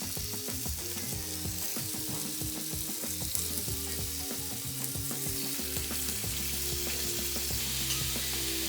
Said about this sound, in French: vous pouvez ajouter un petit peu d'huile d'olive, donc toujours dans la même poêle, pour faire revenir juste un tout petit peu doré là vos encornets